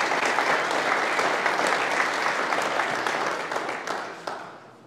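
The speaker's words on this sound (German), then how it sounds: "dein Applaus" Audience applause for an Austrian KTM Junior Cup motorcycle champion at a motorsport talk event, a full, steady round of crowd clapping that tapers off toward the end.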